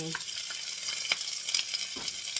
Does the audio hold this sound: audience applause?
no